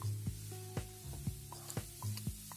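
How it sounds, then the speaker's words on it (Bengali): A ground paste of cumin and green chilli with turmeric and red chilli powder sautés in a pan for a Bengali katla fish curry. A spatula scrapes in a regular rhythm, about twice a second, over a soft sizzle. "ভালো করে এখন এটা আমি কষিয়ে নিচ্ছি।"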